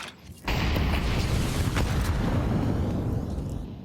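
Grenades detonating in a Counter-Strike esports match, a heavy booming blast that kicks in abruptly and rumbles on loudly with a long, dense low roar before slowly fading.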